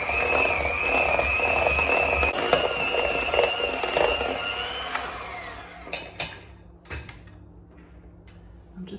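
A stand mixer runs at medium speed through butter and caster sugar for jam drop biscuit dough, a steady close motor whine with rattling beaters that cuts out about halfway, leaving a few clicks and knocks.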